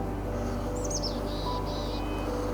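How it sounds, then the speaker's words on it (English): A chickadee sings a few thin, high whistled notes inside a desert cave over a steady low hum of background noise, fairly faint. "There's a chickadee singing away in here."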